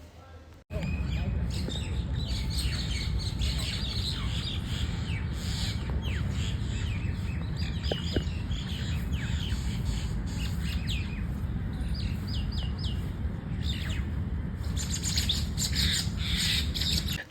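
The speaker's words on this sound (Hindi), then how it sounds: "जब हम घर की तरफ निकल रहे थे तो चिड़ियाओं का क्लेश चल रहा था" Small birds squabble outdoors, their busy overlapping chirps and squawks running steadily and fairly close for the whole stretch over a constant low background rumble.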